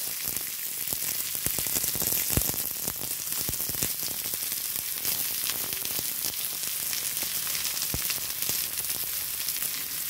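Sliced onion frying in a pan after grated coconut has been roasted, giving a continuous close sizzle with a few scattered pops and light stirring sounds.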